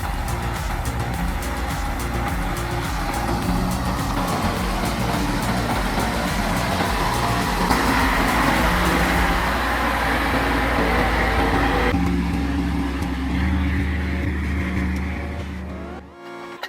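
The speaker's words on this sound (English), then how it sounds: "a Scania 112 Tatu roars to life, its powerful engine echoing across the valley" A Scania 112 heavy wood-hauling truck's engine roars steadily and loudly, a deep continuous rumble with revving swells that holds throughout before dropping off abruptly at the end.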